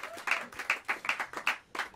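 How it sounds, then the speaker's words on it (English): Scattered hand claps from a small audience at a jazz club, uneven bursts of clapping, moderately near and not very loud. "Give a warm round of applause for great Peter Washington"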